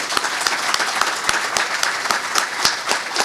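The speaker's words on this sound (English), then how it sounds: "let's give those guys a big round of applause" A chapter meeting audience claps for a councilwoman and her chief of staff, a full room of hands in a loud, even, continuous patter with a few sharper individual claps standing out.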